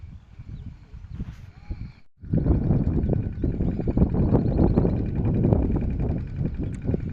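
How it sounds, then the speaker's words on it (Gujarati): Steady wind buffets the microphone in an open farm field, a low roaring rush that swells after a brief pause and stays loud throughout. "તમને પવનનો અવાજ તો સંભળાતો જ છે"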